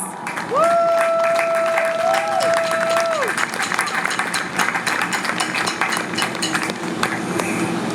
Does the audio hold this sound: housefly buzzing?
no